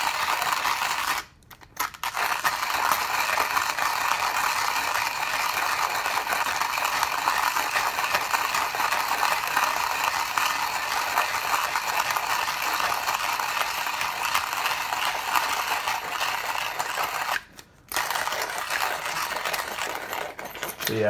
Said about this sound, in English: I can feel the grinder's almost done.